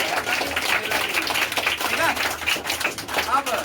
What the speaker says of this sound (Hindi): तो लड़कों के लिए भाई जोरदार ताली होनी चाहिए